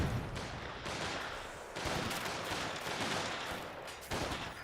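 Dense, overlapping rifle fire from Panzer Grenadiers with G43 rifles advancing in the Company of Heroes 2 real-time strategy game, a loud, continuous crackle of shots with a few heavier bursts, no voices.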